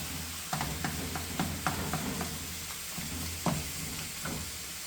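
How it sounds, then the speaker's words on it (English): Utensils scrape and tap against a pan while mixing and chopping mince into small bits, in an irregular rhythm, with a steady sizzle-like background hiss and a few sharper knocks. "we've got to mix this up and chop it into bits"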